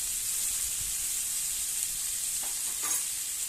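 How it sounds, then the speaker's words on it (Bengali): Chopped onions fry in hot oil in a pan as they are browned for a curry, giving a steady, close, dense sizzle throughout with a few faint stirring scrapes near the end. "পেঁয়াজটা খুব সুন্দর করে একদম বেরেস্তার মতন করে লাল লাল করে পেঁয়াজটাকে ভেজে নেব"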